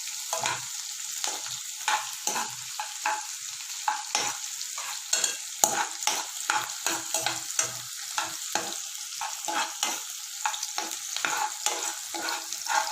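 Onions sauté in a pan for noodles, a constant close sizzle punctuated by rhythmic spatula scrapes and taps every half second or so, with no one talking.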